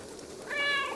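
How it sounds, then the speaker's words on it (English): A cat meows in the video game Stray, a single drawn-out, clear call rising in the second half over a soft background hum. "And they do meow back to you"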